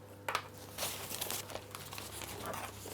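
Crinkling and rustling of a plastic piping bag being opened and handled at close range, irregular bursts over a steady low hum, no talk.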